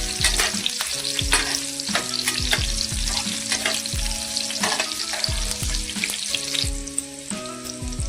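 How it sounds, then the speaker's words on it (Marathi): Finely chopped garlic and diced onion sauté in a pan for a Maggi noodle dish, giving a steady close sizzle with stirring scrapes while rhythmic background music plays throughout. "त्यानंतर बारीक केलेला लसूण, चिरलेला कांदा हे चांगल्या प्रकारे परतून घेऊया."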